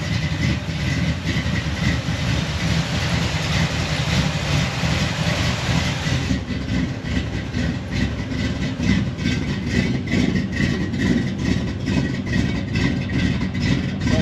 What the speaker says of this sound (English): That's 6-cylinder. That sounds nice.